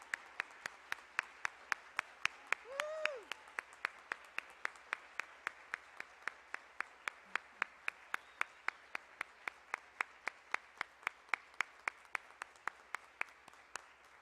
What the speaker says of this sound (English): Let's give one huge big round of applause for our graduates of 2024.